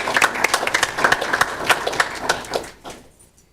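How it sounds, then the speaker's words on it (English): Audience at a school board meeting breaking into applause, a brisk patter of many hands clapping fairly close for a few seconds before it fades away into near silence. "We can clap."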